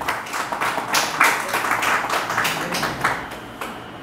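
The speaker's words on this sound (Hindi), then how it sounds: "मैं चाहता हूँ कि इन अतिथियों के लिए, एक मेहमानों के लिए ज़ोरदार तालियाँ होनी चाहिए।" An audience applauds the guests seated on stage at an Urdu-Hindi poetry gathering, with dense, steady clapping that swells and fades over a few seconds.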